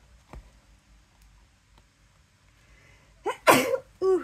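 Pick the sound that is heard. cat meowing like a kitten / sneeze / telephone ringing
sneeze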